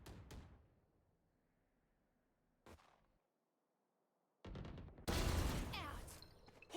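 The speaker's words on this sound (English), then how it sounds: "Some gunfire exchange, but it looks like no eliminations made." Gunfire exchange in the tactical shooter game Valorant, with short sharp bursts of shots near the start and middle, then a loud, dense stretch of rapid fire and impacts toward the end.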